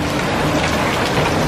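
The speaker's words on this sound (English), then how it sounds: "The rain continues to fall." Rain falls steadily in Siem Reap, Cambodia, a loud, close, even hiss of drops on surfaces with no voices.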